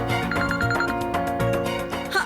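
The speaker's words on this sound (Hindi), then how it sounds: "कोच सर के फोन आई" A phone rings with an incoming call, a melodic ringtone repeating steadily and filling the short moment on its own.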